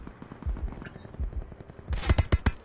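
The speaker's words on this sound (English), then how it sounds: "Why is this orange guy shooting me?" Gunfire in a video game shootout, scattered shots at first, then a quick loud burst of several rapid automatic rounds near the end.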